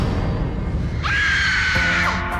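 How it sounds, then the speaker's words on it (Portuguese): A woman's high, sustained scream in a horror film's post-credits scene, rising sharply and holding for about a second over a low, murky background rumble. "E quando ela abre os olhos, ela solta um grito."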